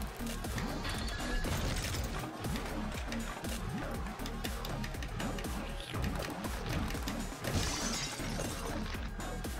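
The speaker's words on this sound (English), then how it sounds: "Breaking glass, just cause I can." Glass shattering and smashing in the video game Freaky Awesome, a dense run of loud breaking and crashing impacts that continues throughout with no pauses.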